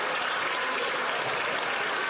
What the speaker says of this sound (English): Damn, all the applause.